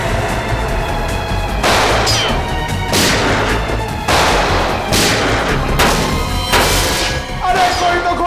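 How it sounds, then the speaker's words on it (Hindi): Repeated loud gunshots ring out in an irregular burst, several sharp cracks over a few seconds amid a noisy, chaotic background. "मुझे भी गोली चलानी है"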